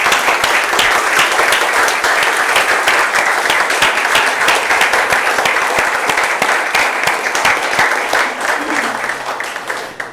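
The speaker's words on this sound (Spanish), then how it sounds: "Démosle un aplauso al Señor" Loud, sustained applause from a church congregation fills the space with dense, steady clapping that carries on without a break and tapers slightly at the end.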